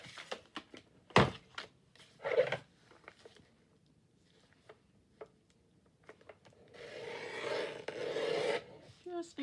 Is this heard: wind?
no